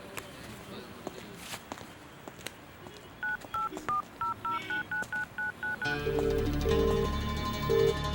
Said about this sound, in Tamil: ஒரு ஃபோன் பண்ணணும்.